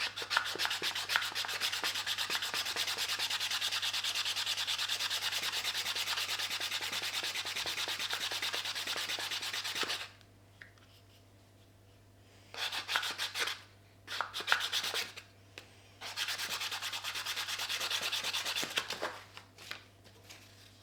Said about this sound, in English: I just need to round that off, just like I did that, with some sandpaper